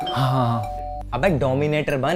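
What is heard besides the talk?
doorbell ringing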